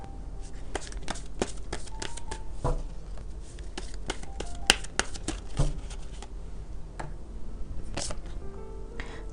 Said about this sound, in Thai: ต่อไปแม่หมอเปิดไพ่ Oracle เสริมให้นะคะ